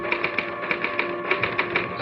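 Radio drama sound effect of a typewriter typing, with a steady run of sharp mechanical key clacks at a brisk, slightly uneven rhythm, close and clear with no voices.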